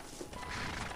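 A horse in Red Dead Redemption lets out a brief whinny over a dense game soundscape, with a hint of hooves, all within about a second.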